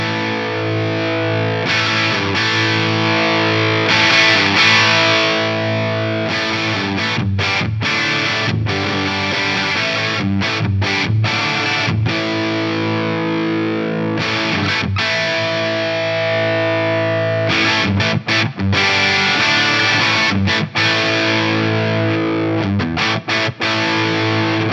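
Electric guitar through a Kitty Hawk Quattro preamp in overdrive, with the bright control swept: a continuous loud distorted riff of chugging chords and short stops, played alone.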